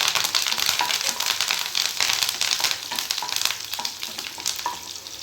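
Garlic and fresh curry leaves sautéing in hot oil, giving a continuous crackling sizzle with frequent stirring scrapes. Close and loud throughout, with no voices.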